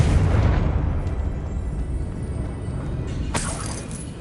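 Confringo spell explosion in Hogwarts Legacy, a loud deep blast with a rumbling roar that slowly decays over several seconds, followed by a brief sharp crack near the end.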